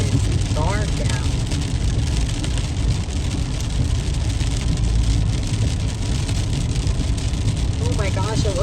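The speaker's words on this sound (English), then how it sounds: "it looks like a wall of rain" Heavy rain drums steadily on a moving car as it drives through a storm, a dense, loud, unbroken wash with road and engine noise beneath; people talk briefly near the start and end.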